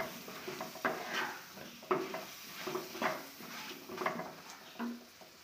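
Cut brinjal being stirred with masala in a pan, a spoon scraping and knocking against the pan in irregular strokes about once a second, close and moderately loud, with a light sizzle underneath.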